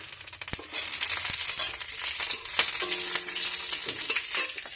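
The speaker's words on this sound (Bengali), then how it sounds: "তেলের মধ্যে প্রথমে দিয়ে দিচ্ছি কালো জিরে আর অল্প একটু সাদা জিরে, ব্যাস এটাই ফোড়ন।" Black and white cumin seeds with a split green chilli sizzle and crackle in hot oil, a steady loud frying hiss with sharp pops and a few stirring clicks, no voices.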